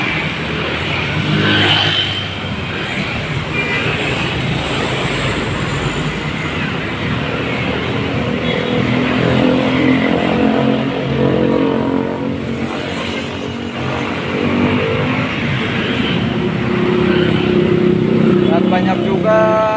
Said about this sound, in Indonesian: Ternyata semakin sore lalu lintas di Palimanan ini semakin ramai.